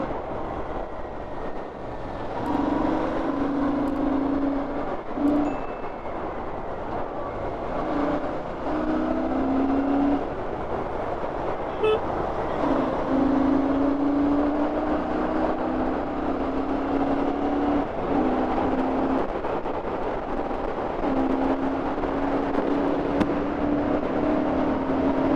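A vehicle with twin silencers drives at speed, its engine giving a loud, steady drone with a rising and falling hum as it holds pace over continuous road noise.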